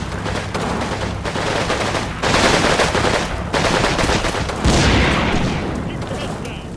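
Sustained bursts of automatic weapons fire and heavier reports from a WWII tactics game, with an M8 armored car and a Jeep engaging flanking infantry; dense, continuous shooting that swells and eases across the whole stretch.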